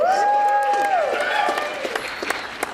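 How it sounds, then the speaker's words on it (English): Audience applause for a costume contestant at a monster-movie costume contest, a steady broad patter of clapping with a voice talking or calling over it near the start, the clapping thinning toward the end. "Give this one here a round of applause."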